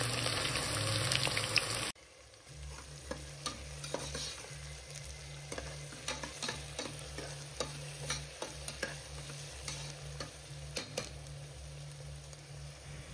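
Onion pieces fry in a cooker pan for mutton kheema curry, a steady close sizzle with repeated scraping stirs from a spoon; a louder burst of noise opens the first two seconds before settling.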